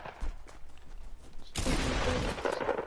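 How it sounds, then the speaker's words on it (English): Fortnite gunfire on PS4, a sharp loud burst that starts midway and carries on as dense rattling shots, following quieter in-game sounds and a little talking. "I'm shooting this person."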